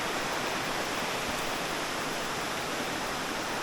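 A heavy rush of river water pouring down at a riverside spot in Jamaica, a dense, steady roar that fills the whole clip with no pauses or voices.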